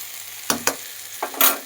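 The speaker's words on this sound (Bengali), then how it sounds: "দিয়ে ভালো করে এবার কষাবো" Garam masala, sugar, chili powder and spices are sautéed and stirred in a pan for a green jackfruit curry, with a few sharp spatula scrapes over a soft background sizzle, close and unaccompanied by talk.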